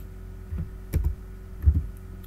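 Close computer keyboard typing while entering statistics values: a few distinct soft key taps spaced out over a quiet steady hum, with no speech.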